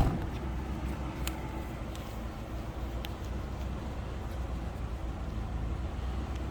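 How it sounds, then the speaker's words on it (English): A 1983 Cadillac Seville engine idles steadily as a low, continuous rumble, heard from behind the car outdoors with some wind buffeting and a few faint clicks. "slip out to the back so you can hear it run"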